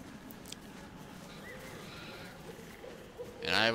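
In the video game Baldur's Gate 3, a sheep gives a short bleat near the end, loud and close, after quiet game ambience.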